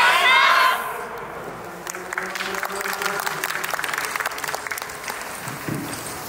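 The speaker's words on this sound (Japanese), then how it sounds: "全力で踊らせていただきますので、どうぞお手拍子のほど" An audience applauds and cheers at an outdoor yosakoi dance performance in a dockyard garden, with a burst of cheering that fades into steady, moderately loud clapping along under crowd noise.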